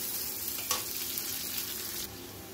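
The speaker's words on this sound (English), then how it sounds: "for frying cabbage, I put some onion and green chili." Onion and green chili fry in a pan before cabbage is added, giving a faint, even sizzle throughout with a single brief clatter partway through.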